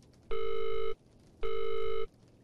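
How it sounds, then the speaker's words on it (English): Telephone busy tone inside the horror video game Visage: two steady electronic beeps, each about 0.6 seconds long with a pause between, clear and fairly close with no talk over them. "that's just the busy sound"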